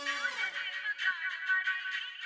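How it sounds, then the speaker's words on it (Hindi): A phone ringtone plays in a Taarak Mehta Ka Ooltah Chashmah film, a bright warbling electronic tone repeating in quick pulses, fairly faint and heard alone. "सही वक्त पे फोन आ गया"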